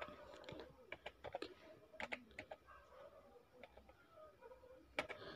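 Soft, close computer keyboard typing comes in irregular clusters of light key clicks with short gaps, quiet and unaccompanied, as a company domain and a search term are entered.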